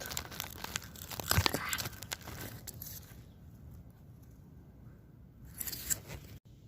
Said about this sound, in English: Bypass pruners are helpful, but bigger ones than this. Luckily these stems are easy to cut.